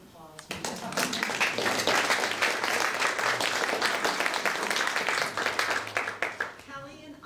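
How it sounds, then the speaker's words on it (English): Wedding guests break into a round of applause, dense clapping rising quickly and holding for several seconds before tapering off, with voices faint underneath. "How about a little round of applause?"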